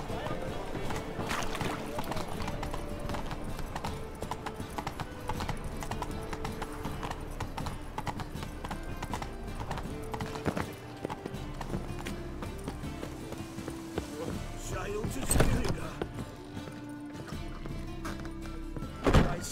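Roach the horse gallops in The Witcher 3: Wild Hunt, a steady run of clip-clop hoofbeats beneath game music and occasional speech, with a brief whinny-like burst near the end.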